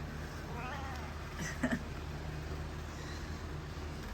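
One short cat meow, fairly soft and close, over a steady background hum.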